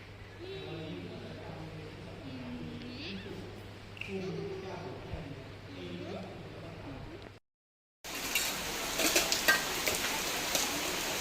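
Rain falls steadily throughout, with people talking over the patter for the first several seconds, then a brief gap before a louder, denser wash of rain.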